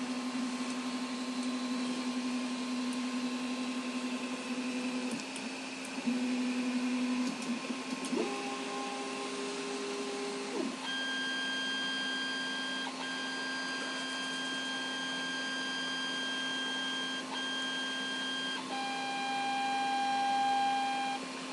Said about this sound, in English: in the background you can probably hear the printer moving